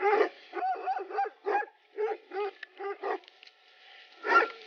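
Several hunting dogs on a partridge hunt in Central Anatolia, Turkey, bark in short sharp bursts, with high whimpering yips between them, fairly close, ending with one louder bark.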